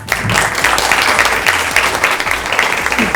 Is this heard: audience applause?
yes